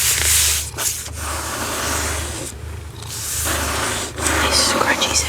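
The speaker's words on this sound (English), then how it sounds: "I like the top, the dust jacket. Got a nice sound to it." Fingers rub and scratch across a book's dust jacket in close-up ASMR style, a continuous dry, papery scratching with short pauses, accompanied by soft spoken voice.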